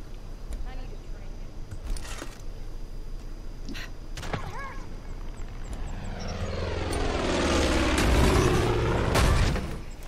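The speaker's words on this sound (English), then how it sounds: "Just a random plane flies through." Propeller plane in an Xbox shooter game sweeping past, its engine drone swelling loudly toward the end over steady game noise, with a voice heard in places.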